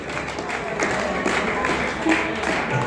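Steady applause from a crowd at a staff get-together program in Ratnagiri, a continuous wash of many hands clapping for about three seconds, with faint voices mixed in.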